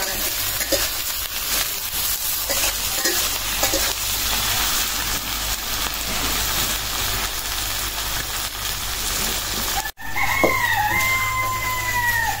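Dried fish and vegetables fry in oil with a continuous broad hiss, and a rooster crows loudly nearby toward the end.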